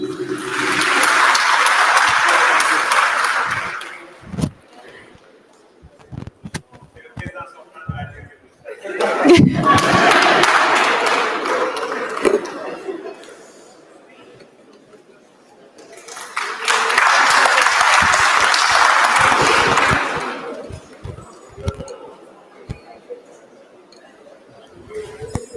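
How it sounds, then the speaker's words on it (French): Sustained applause fills a National Assembly ceremony hall in three long waves, each several seconds of dense clapping, separated by quieter stretches of murmuring and scattered claps. "des applaudissements nourris"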